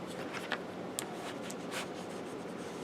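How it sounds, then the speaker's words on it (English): Paper being burnished with the spatula end of a multi-purpose tool on a craft album kit, a faint, steady rubbing scrape with a few light taps, close and quiet. "burnish, and I'm using the spatula-y end of my multi-purpose tool"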